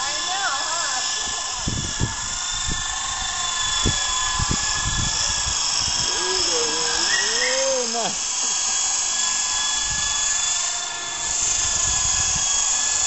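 An E-sky radio-controlled model helicopter flies nearby with a steady high-pitched rotor and motor whine that rises and falls as it maneuvers, while people talk over it throughout.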